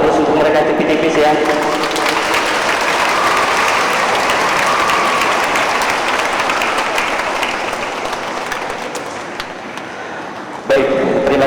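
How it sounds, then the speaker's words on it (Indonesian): An audience applauds performers after a show, a dense, steady wash of clapping that holds for about ten seconds, eases slightly toward the end, then stops abruptly. "Boleh dong kita beri aplaus untuk mereka tipis-tipis ya."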